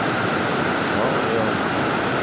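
Steady, loud roar of water rushing through overflow gate number 1 at the Tarlac Diversion Dam, a dense continuous broadband wash close by with no break across the stretch.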